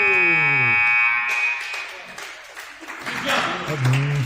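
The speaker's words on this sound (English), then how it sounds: "And at the buzzer," A basketball game buzzer sounds at the end of a period in a PSAL girls' high school game, a loud steady tone lasting about a second before crowd noise and talk take over.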